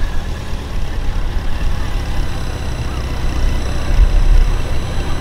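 A 1300cc police motorcycle pulls away from a stop with a deep, steady engine rumble that swells slightly toward the end, close by.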